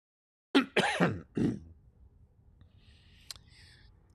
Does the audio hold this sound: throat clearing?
yes